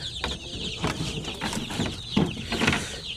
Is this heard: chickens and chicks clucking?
yes